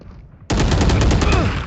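Gunfire in the game Valorant erupts abruptly after a quiet moment, a loud, close burst of rapid automatic shots sustained to the end.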